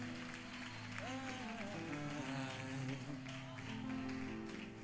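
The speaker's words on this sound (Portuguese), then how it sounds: "Aplauda Jesus, olha que bonitinho." Congregation applauding at a church worship service, a steady wash of clapping throughout, blended with singing or a held musical tone and some voices underneath.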